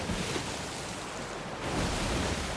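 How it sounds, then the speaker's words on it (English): Choppy ocean waves in the video game Sea of Thieves, a steady broad rushing wash of surf with a brief dip then swell, fairly quiet and continuous with no voices. "It's very choppy water, huh?"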